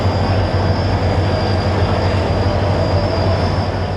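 A train rumbles loudly and continuously at Nawab Shah city railway station, a dense steady roar of rolling wagons with faint wheel squeal and no voices.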